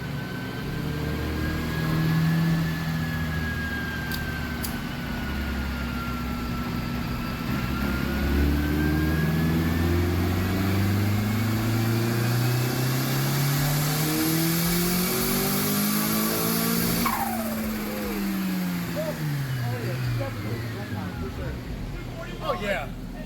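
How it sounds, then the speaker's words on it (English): A turbocharged car on a dyno, running 14 psi through a Turbo Smart boost controller, revs hard through long rising pulls with a loud, close engine roar, then drops off sharply and winds down. "finally a dyno video on the tune that I made"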